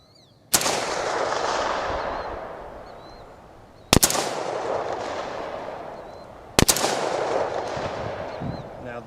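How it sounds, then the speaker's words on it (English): Three sharp, loud rifle shots from a Smith & Wesson M&P 15 AR-15 fired outdoors at wood and disc targets, spaced about three seconds apart, each followed by a long rolling echo that decays slowly. "We'll be firing at the wood and the disc."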